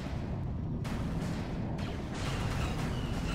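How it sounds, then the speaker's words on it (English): Artillery pieces fire in a Star Wars strategy video game battle, heard as a dense, continuous low rumble of booms and blasts with bursts of brighter crackle, loud and steady throughout with no talk. "I really like these artillery pieces."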